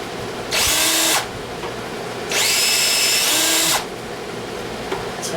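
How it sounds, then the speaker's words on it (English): A power drill whines in two bursts, a short one then a longer grinding run, drilling out spot welds in the rusty sheet metal of a 2001 Pontiac Bonneville, with quiet pauses between. "So I'm sitting here trying to drill out these spot welds."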